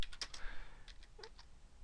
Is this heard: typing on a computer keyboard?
yes